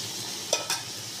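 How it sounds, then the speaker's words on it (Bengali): Potatoes frying in a pan over medium heat for alu posto, a steady soft sizzle with two brief scraping stirs in the middle. "দু মিনিট মতো ভেজে নেব ভালো করে।"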